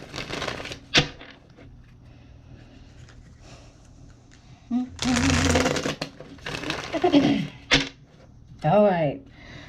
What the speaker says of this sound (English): Let me shuffle it a couple of times.